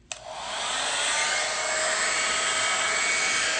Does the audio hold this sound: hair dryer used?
yes